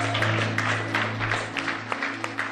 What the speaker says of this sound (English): Let's just give a hand clap unto the Lord